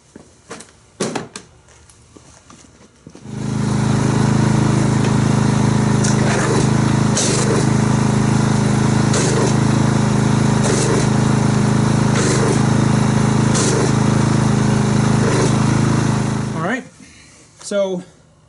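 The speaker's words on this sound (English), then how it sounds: "let me get the pressure washer and we'll suds this up" A pressure washer sprays Chemical Guys Honeydew snow foam onto a car, its motor kicking on with a loud, steady drone for about thirteen seconds before cutting off, with brief handling clatter and movement sounds before and after.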